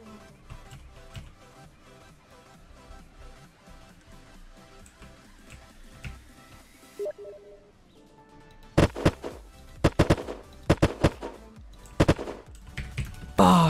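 Gunfire in the Unturned video game: rapid bursts of automatic fire in the opening seconds, a brief pause, then sharp loud single shots and short bursts close by, with no speech.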